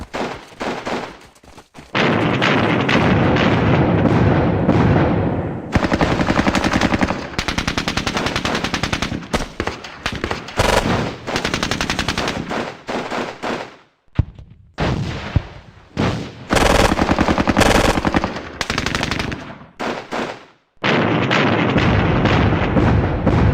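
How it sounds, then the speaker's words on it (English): In the video game Squad Battles Eagles Strike, a medium machine gun fires long, loud, rapid bursts while anti-aircraft fire shells the position, with heavy blasts and brief silent gaps between volleys and no speech. "So that's our medium machine gun is being shelled by anti-aircraft fire"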